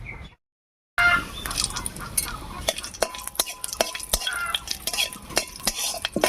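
Green chilies, nigella seeds and dried chilies frying in mustard oil in a pan, with sharp scraping stirs and spatula clicks over a soft sizzle after a brief silent gap at the start.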